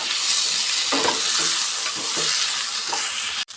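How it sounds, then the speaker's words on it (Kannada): A large chopped tomato and masala fry loudly in a pan for village-style egg sambar, with a dense steady sizzle and repeated scraping strokes of a spoon, then a sharp clank near the end. "ಎಲ್ಲ ಸೇರಿಸಿ ಫ್ರೈ ಮಾಡ್ಕೊಬೇಕೀಗ."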